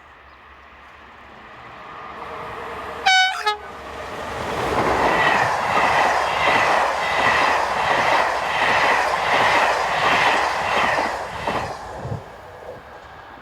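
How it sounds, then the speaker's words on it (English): French electric locomotive BB 7323 hauls a Lyon to Paris-Bercy passenger train past, starting with a short sharp horn blast, then a loud, building roar with rhythmic clickety-clack of wheels over rail joints that fades slightly at the end. "Loco-hauled passenger workings drew us to the route, typified here by BB 7323, working north on the 18th of July 2018 with the 1316 from Lyon to Paris-Bercy."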